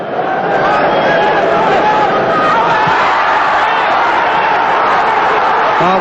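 A large football crowd at St James's Park during Newcastle United against West Ham United gives a loud, sustained roar, with a commentator speaking over the din throughout.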